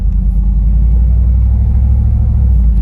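LT4-powered Jeep Wagoneer running in drive, a loud steady low engine rumble with no clear rev break, close and continuous with no voices.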